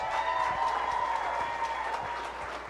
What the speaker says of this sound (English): let's give all of our great contestants one more round of applause